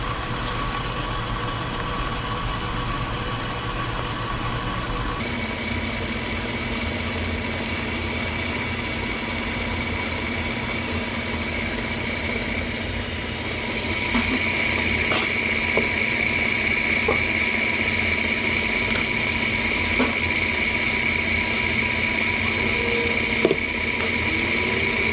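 A mixer whips chocolate mousse mixture in a bowl, its motor giving a steady, even whir that runs unbroken for the whole stretch and grows slightly louder partway through, with no one talking.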